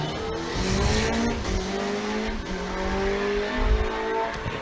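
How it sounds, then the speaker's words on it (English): A car engine roars at high revs as the right front tyre locks up, squealing and skidding under heavy braking at a sprint event, the engine note dropping and rising again. "He locks up the right-hand front of the car that time"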